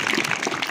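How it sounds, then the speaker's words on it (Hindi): Students and audience at a school general knowledge competition breaking into lively applause, a thick continuous patter of many hands clapping, fairly loud and close, lasting under a second with no voices. "तो जोरदार तालियां बन।"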